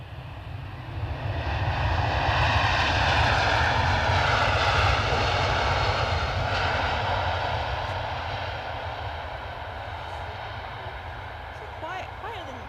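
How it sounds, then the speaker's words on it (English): A Qatar Airways Airbus A350-900 at Edinburgh Airport gives a loud, sustained jet engine roar that swells and slowly fades, with someone talking beneath it. "This is A350-900, courtesy of Qatar Airways."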